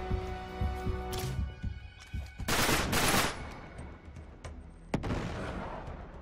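Sporadic gunfire in Uncharted 3 Remastered during a game firefight, a few bursts and single shots scattered over a steady music-and-ambience bed, with one loud cluster in the middle and another sharp shot near the end.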